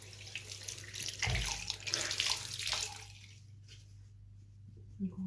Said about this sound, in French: Donc on rince bien.